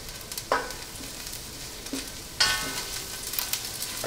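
Garlic and onion sauté in a pan for shrimp pancit bihon, a steady soft sizzle broken by a few sharp clatters of a spatula or of ingredients dropping in, with a louder burst of frying partway through.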